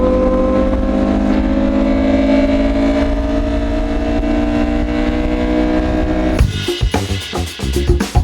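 A Honda S2000 engine holds a steady drone while the car corners, the pitch rising slowly. Near the end the hum breaks up into choppy revving and thumps, and one voice is heard briefly.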